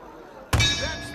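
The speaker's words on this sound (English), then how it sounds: "That's the starting bell, and the fight is underway." Boxing bell in the Creed boxing video game rings once sharply after a short quiet lead-in, its metallic clang ringing on and slowly decaying under faint crowd noise.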